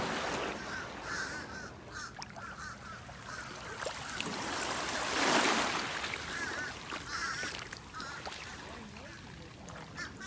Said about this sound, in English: Those blackbirds are very vocal.